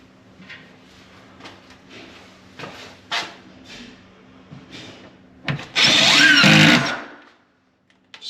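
A cordless power drill drives a screw into a wooden closet organizer in one loud, close burst of roughly a second, after some quieter handling knocks and clicks, then stops abruptly.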